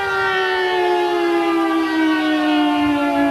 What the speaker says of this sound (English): If you can hear me over these sirens, we got them going pretty loud.